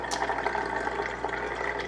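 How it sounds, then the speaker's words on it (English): Warm water runs from a tap into a plastic soap dispenser bottle, a steady close rushing fill with a faint bubbling texture, alone and without any talking. "I would fill it with warm water"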